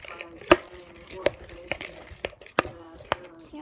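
Homemade slime being mixed after formula is added: a run of irregular sharp taps and wet clicks from a utensil striking the container, close and fairly loud, with a faint voice in the background.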